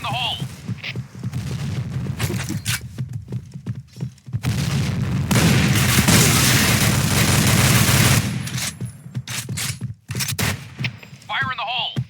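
Explosions and bursts of rapid gunfire from the shooter game Point Blank fill a dense, loud battle stretch, with short voiced callouts at the start and end.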